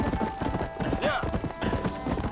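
Rhythmic horse hoof clip-clops from a running horse in the Red Dead Redemption video game, steady and fairly loud, with a game voice speaking over them.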